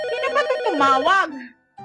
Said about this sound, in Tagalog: Sasagutin mo ba yung telepono?